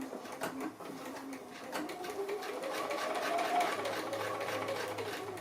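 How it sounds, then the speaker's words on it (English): Sewing machine running a straight stitch around curved holly leaf shapes with wire inside, a steady rapid mechanical patter lasting several seconds at moderate loudness, with no voice over it. "So just to stitch on, I'm just using a straight stitch"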